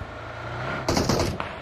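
A short burst of gunshots in PUBG Mobile breaks in after a quiet engine-like hum, a few sharp cracks at moderate distance and moderately loud.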